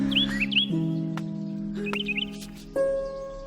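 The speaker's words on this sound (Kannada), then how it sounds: "ಹಕ್ಕಿಗಳು ಕಲರವ ಕೇಳಿಸ್ದಾಗೆಲ್ಲ" Birds chirp and squawk in short, bright twittering bursts over a steady low hum, the calls close and clear in a few quick clusters.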